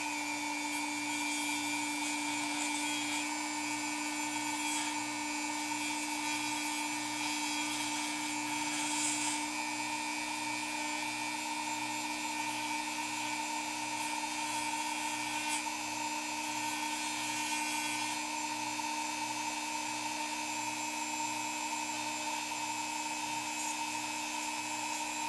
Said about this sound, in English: We use the Dremel 4000 here to go through and basically sand these down.